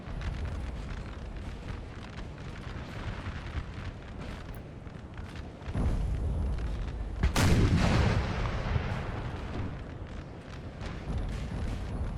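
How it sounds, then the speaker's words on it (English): Artillery fire in the Napoleon: Total War battle game: a dense, rumbling barrage of cannon booms, with a louder blast near the middle and a steady roar of battle sound throughout. "This artillery unit is shooting at the Italians."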